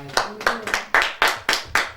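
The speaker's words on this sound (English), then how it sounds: "just clap hands and shout hallelujah." A church congregation claps hands in a steady, evenly spaced rhythm of sharp, close claps, about one every quarter second, with no talking.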